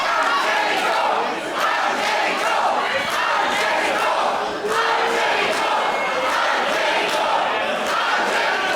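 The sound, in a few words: wrestling match crowd cheering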